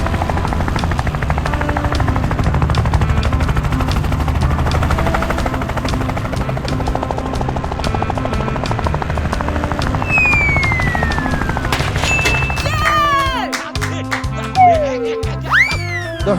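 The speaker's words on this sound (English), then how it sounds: "The helicopter quickly arrived and set the greenhouse perfectly into its place." A cartoon helicopter delivering a greenhouse on an animated farm thuds loudly and steadily, then gives way to bouncy, springy cartoon sound effects near the end.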